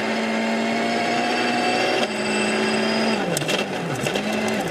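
A Citroën DS3 WRC rally car sliding and skidding at Rally Wales GB 2012, with a loud, sustained, buzzy engine note whose pitch drops and swoops unevenly near the end.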